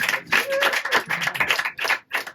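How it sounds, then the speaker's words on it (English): An audience at a close-up magic show claps in a quick, uneven burst of applause lasting a couple of seconds, close and fairly loud. "Give him a nice round of applause."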